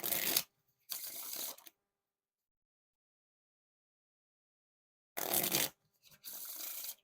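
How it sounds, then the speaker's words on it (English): Riffle and bridge shuffles of a deck of Postage Paid playing cards, heard as two pairs of crisp, close fluttering bursts, each a quick riffle followed by a softer cascade, separated by a long silence. "they make for some good riffles and bridge shuffles"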